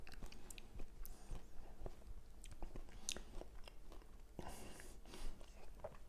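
Someone eats a spoonful of a vegetarian pumpkin dish with chili and coriander, making soft, close chewing and mouth sounds with small clicks and light crunches over several seconds.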